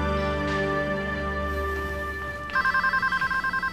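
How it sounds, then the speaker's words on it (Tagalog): A telephone starts ringing in a rapid, pulsing electronic trill that cuts in over a sustained musical drone and repeats steadily at moderate volume. "pwedeng pakisagot yung telepono?"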